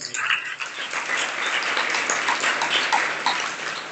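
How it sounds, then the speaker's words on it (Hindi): A congregation at a Jain religious discourse claps along steadily, a busy crackle of many hands sustained evenly throughout, fairly loud and without talk over it. "ताली इतने अच्छे से बजा रहे हैं आप लोग"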